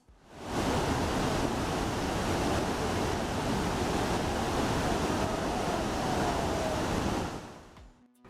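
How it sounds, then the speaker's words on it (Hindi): Hukou Waterfall roars with a massive, dense rush of water plunging down the falls, a steady, loud wall of noise lasting several seconds before fading out. "इतनी अचानक तंगी से पानी की रफ्तार तेज हो जाती है जब ये झरने से नीचे गिरता है।"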